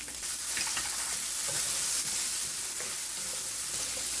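Ginger and garlic paste frying in a pan for tangy Indian pickled paneer, with a steady bright sizzle and occasional soft scrapes of stirring, fairly close, no voices.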